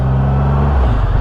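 The engine of a 2022 Triumph Rocket 3 R motorcycle rumbles loudly and close through a turn, its deep drone shifting pitch partway through as the revs change.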